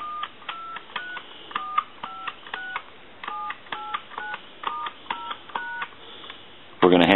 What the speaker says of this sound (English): we're going to dial our numbers if you watch.